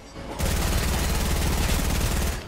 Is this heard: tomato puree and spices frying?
no